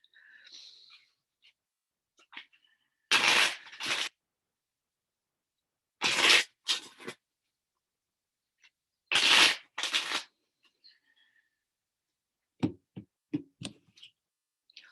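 Tarot cards riffle-shuffled in three quick bursts separated by quiet gaps, followed by a few soft taps as the deck is squared.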